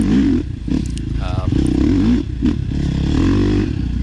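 A dirt bike is ridden hard at a training compound, its engine buzzing loud and close and rising and falling with revs, while someone talks over it.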